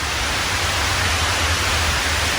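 Light misty rain blowing in from different directions onto trees and a tarp overhead in the woods, a steady, close hiss of fine drizzle with a low rumble beneath and no talking.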